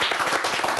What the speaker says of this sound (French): j'ai quand même envie d'avoir des applaudissements